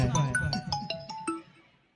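A melodic phone ringtone playing over a stage event with live music, a series of bright chiming notes in a short rising-and-falling pattern, fairly loud with background voices and music underneath.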